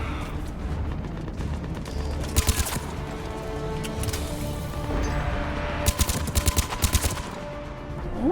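Gunfire in the shooter game Mass Effect 3: bursts of rapid automatic shots at two points over a continuous mechanical battle din, loud and close.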